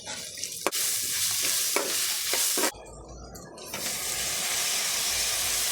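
Onions fry with ginger paste and green chillies for a stuffed squid filling, with close scraping stirs and spatters over a loud hiss, then an even, softer sizzle.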